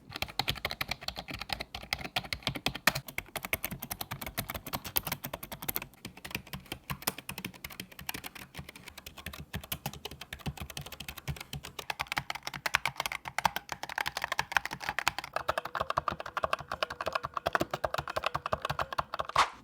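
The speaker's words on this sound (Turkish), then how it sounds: "Gelin şimdi tüm klavye modellerinin sesine ASMR tadında bir dinleyelim." Rapid, continuous typing on several Razer gaming keyboards: close, crisp key clacks in dense bursts with brief pauses and changes in tone between keyboards, and no talking.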